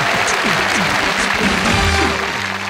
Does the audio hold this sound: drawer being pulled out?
no